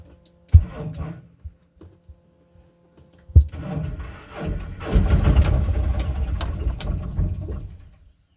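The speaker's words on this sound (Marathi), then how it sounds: "गाडी चालू करून घेतो मी आता" A click and brief crank, then a car engine turns over and catches into a low rumbling idle before it cuts off.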